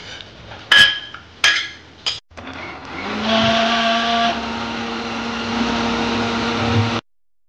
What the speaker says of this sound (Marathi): आतां हें पेस्ट करपाक घालता तें मिक्सराक.